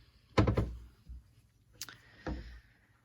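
A cabinet drawer in a basement home office slides open with a close, hollow thunk, followed by a softer second scrape and knock a moment later, in an otherwise quiet room.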